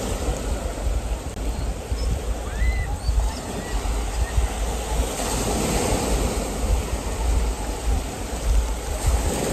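Strong water rushes and churns beside a grotto, a dense, loud, continuous roar filling the whole span without a break.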